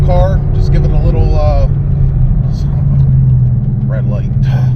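A 2014 Ford Mustang GT street car drives with a steady low engine rumble that runs the whole time beneath someone talking up close.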